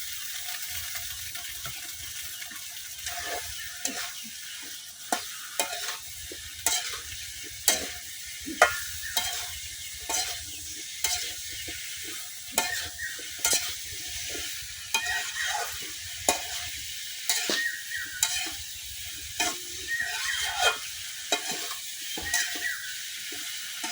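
Okra and potatoes fry in a pan with a constant sizzle, while a spatula stirs and scrapes in repeated rhythmic strokes, close and clear, with no talking.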